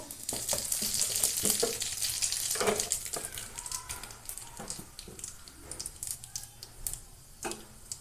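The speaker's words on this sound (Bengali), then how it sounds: "ফোড়নে রাঁধুনি দিয়ে দেবো" Radhuni seeds crackle and sizzle as a tempering in hot oil in a wok, a fairly quiet close frying hiss dotted with sharp little pops and occasional clinks.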